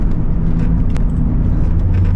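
A 1996 Chevrolet Corvette on new 17 x 11 inch wheels with road race tires corners with a steady, close, loud rumble of engine and road noise. No voices are heard.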